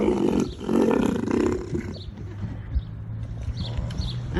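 A tiger roars in the video game Rimworld, a loud rumbling growl swelling in the first half, then trailing into a lower growl over a steady hum of game sounds.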